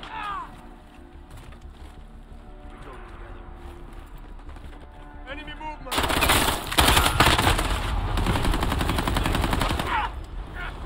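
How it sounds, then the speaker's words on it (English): Gunfire in the video game Call of Duty Modern Warfare: a sparse first half of shots and game sounds, then from about six seconds dense, loud automatic bursts crackle continuously, with voices faintly in the mix. "I'm taking fire!"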